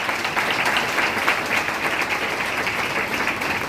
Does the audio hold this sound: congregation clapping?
yes